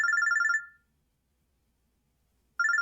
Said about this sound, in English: Yashio Kyun's phone droid starts ringing.